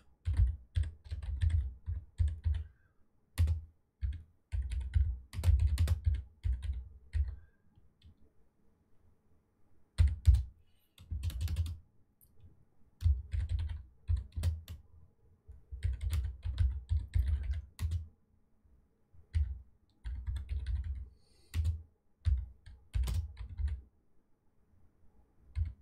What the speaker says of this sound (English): Just typing here for you guys.